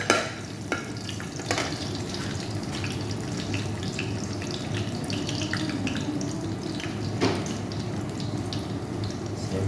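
Garlic, ginger and onion sizzle in a pan for coconut-milk adobo with water spinach and anchovies, a steady crackling fry with a few sharp clinks of a spatula over it.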